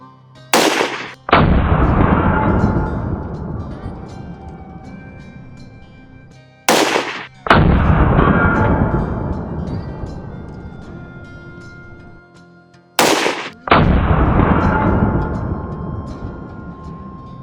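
A Henry single shot 350 Legend rifle fires three times at a steel plate 200 yards away, each loud, sharp report followed by a long, fading rumble and spaced several seconds apart.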